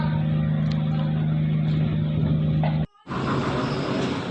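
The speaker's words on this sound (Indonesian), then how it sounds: "Mobil sudah pada keluar," Cars roll off a ferry onto the dock at Gunung Sitoli port, a loud, steady engine drone with a strong low hum, cut by a brief dropout before engines rumble on again.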